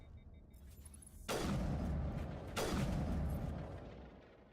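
Creatures exploding in Mass Effect 1, two heavy booming blasts about a second apart, each fading into a rumbling tail.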